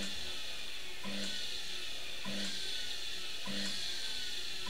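A fuel-free inertioid generator device runs after being switched on at about 110 volts, giving a steady whirring drone with a soft knocking pulse recurring roughly every 1.2 seconds, fairly quiet and without talk.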